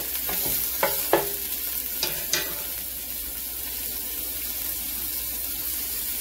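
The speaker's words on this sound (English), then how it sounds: "you can hear that sizzle" Chicken and broccoli stir fry sizzling steadily in a single pan, a constant loud hiss with a few utensil taps and scrapes early on.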